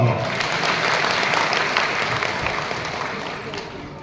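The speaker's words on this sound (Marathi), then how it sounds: "जोरदार टाळ्या वाजवा." Loud, sustained applause from a crowd of women at a public meeting for a women's savings group hall, dense clapping from start to finish that slowly fades over about four seconds.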